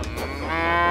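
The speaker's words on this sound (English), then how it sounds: "That sounded like a cow." A cow lows once in a sustained, harmonic moo that swells and holds steady, loud and close, with no talk over it.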